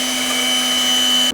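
An electric beater whips four eggs with a steady, loud motor whine holding a constant pitch, then cuts off abruptly just before the end.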